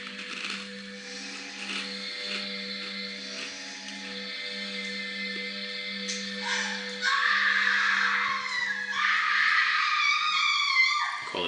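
Screaming in the 1989 horror film Houseboat Horror, a shrill, wavering cry rising over a steady low hum of the soundtrack, growing louder and more strained toward the end.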